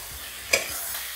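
Spice paste of ginger and mustard is stirred into small mourola fish in a pan, a low sizzle with one brief scrape of the spoon in the middle, close and unvoiced.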